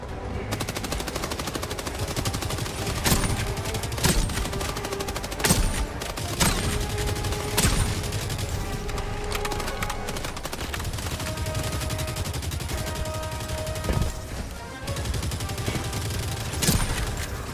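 Gunfire tears into enemies in Helldivers 2, sustained rapid automatic shooting punctuated by louder sharp shots at irregular intervals, with faint voices beneath.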